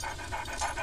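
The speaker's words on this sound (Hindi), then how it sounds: "कुत्तों को कुछ खिला पिला कर चुप करा, बेकार में क्यों चलवा रहा है?" Dogs pant rapidly and rhythmically in short, breathy pulses close by, with no voices.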